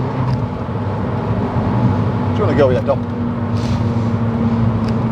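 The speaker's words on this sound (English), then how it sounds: "It's a race car, I like it." Engine of a rare road-legal Fiat 500 Abarth race car, a steady loud drone heard from inside the cabin while people chat over it.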